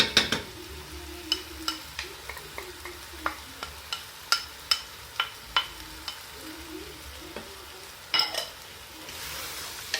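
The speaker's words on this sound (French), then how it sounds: "Je mélange tout ça." Tomatoes being stirred in a cooking pot for harira, with a series of sharp spoon clacks against the pot over a soft sizzle, ending in a louder cluster of scrapes and a rising hiss.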